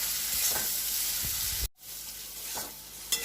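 Spice paste with ginger and garlic paste sautéed in a pan while cooking a Bengali prawn curry gives a steady soft sizzle with occasional stirring scrapes, broken by a brief dropout midway.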